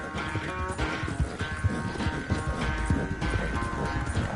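Horse hooves clip-clop in a steady, fairly close rhythm over an ongoing outdoor background.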